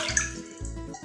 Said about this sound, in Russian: Для начала мы выливаем воду